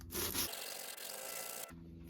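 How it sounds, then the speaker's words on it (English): Brief rasping of a medieval crossbow roller nut rubbed over sandpaper, a couple of close, steady abrasive strokes lasting about two seconds with a faint hum underneath. "put the nut onto the sandpaper, but only the side that you want to bring down, and just give it a few passes"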